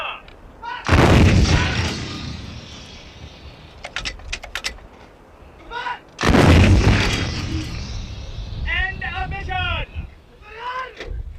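Artillery guns fire in two loud, booming blasts with long rumbling decay, the second around the middle, with a voice giving firing commands between them amid battlefield noise, tied to military operations in southern Arabia and Yemen.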